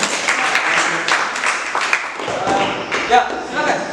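Classroom applause from students, a short burst of scattered clapping with some tapping and thumps, with voices mixed in.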